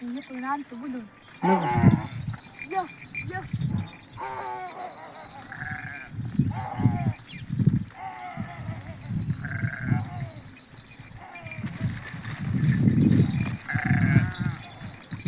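Several sheep bleat repeatedly at close range, overlapping one another, with people talking in between the calls.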